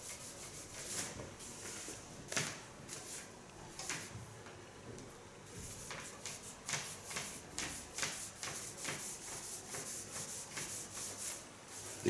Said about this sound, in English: The clicking is not a dog, it is the wire.